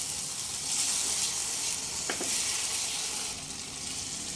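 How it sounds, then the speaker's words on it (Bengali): Spice paste of cashew and poppy seed sautéing in oil in a pan, a steady broad sizzle and hiss close up with one brief scrape of a spoon midway, otherwise even and unbroken. "তিন থেকে চার মিনিট কষিয়ে নেব খুব ভালোভাবে কষিয়ে নিয়েছি মশলা থেকে তেল ছেড়ে এসছে"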